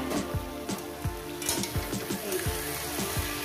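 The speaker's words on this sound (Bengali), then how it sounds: "এইভাবে একটু খুন্তির সাহায্যে এটাকে আমি কষিয়ে নিচ্ছি" Eggplant, tomato and crushed dried chilli frying in a pan, a steady close sizzle with repeated scraping strokes of a spatula as the mixture is stirred, no voices.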